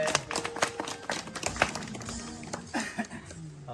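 Scattered audience clapping at a Thai community prize-giving where an elderly woman hands awards to children, irregular hand claps coming at close to moderate distance with brief voices between them.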